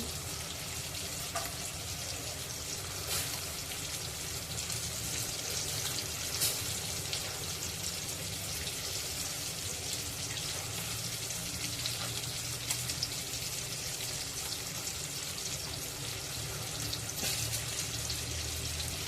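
Kharbya fish fry uncovered in a pan, giving a steady, even sizzle and hiss that runs unbroken throughout at a moderate level, with no voices.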